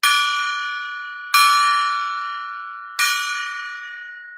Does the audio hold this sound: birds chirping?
no